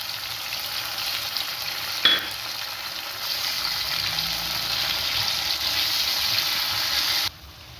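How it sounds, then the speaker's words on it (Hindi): Water is poured into a hot pan of raw mango and tempered spices, sending up a loud, continuous hissing sizzle that holds for several seconds before cutting off sharply. "अब मैं पानी डाल रही हूँ इसके अंदर।"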